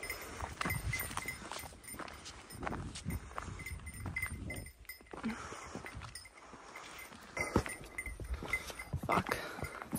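Cattle on a narrow trail shuffle and move nearby while cowbells clank irregularly, with occasional footsteps in a quiet outdoor setting.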